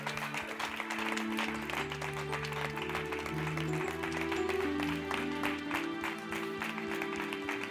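A church congregation applauding steadily during an acclamation of the Lord's word, dense sustained clapping spread across the room over sustained musical tones, with no break across the whole stretch.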